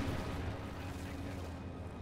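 Katyusha rocket barrage in Company of Heroes 2, a dense, continuous rumble of distant launches and impacts blending into a steady roar with no distinct individual blasts.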